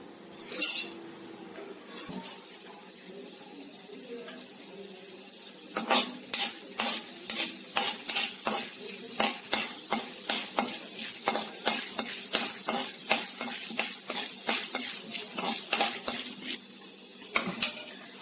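Chana dal sizzles and crackles in hot oil while a spoon repeatedly scrapes and clinks against the pan in a steady stirring rhythm.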